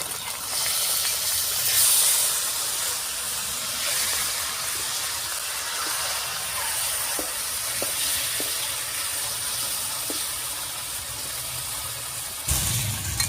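Large puti fish sizzle steadily in oil in a wok, a continuous close hiss and crackle that holds level with a few soft pops and no talking.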